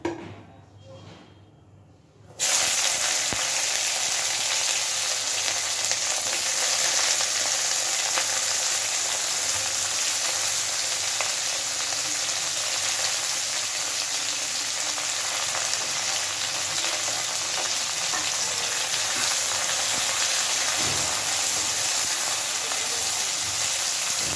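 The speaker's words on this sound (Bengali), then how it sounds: "এবার আমি দিয়ে দিচ্ছি ছোট করে কেটে রাখা কাঁকরোল।" Chopped teasel gourd (kakrol) frying in well-heated oil starts with a sudden loud burst of sizzle after a quiet moment, then holds as a dense, continuous hiss for over twenty seconds.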